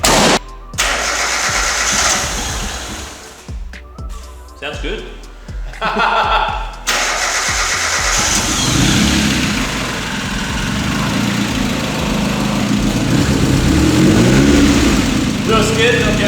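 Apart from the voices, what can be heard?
car engine first startup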